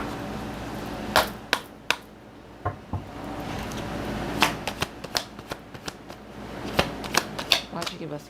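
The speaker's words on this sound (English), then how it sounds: "Let me pull some cards on this." Tarot cards riffled and shuffled by hand, a run of crisp papery snaps and flicks in uneven bursts, close and fairly loud over a quiet room.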